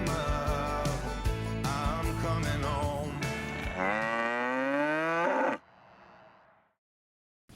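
Cattle moo in several loud, drawn-out calls that overlap near the microphone, the last long bellow rising and then cutting off into faint background noise.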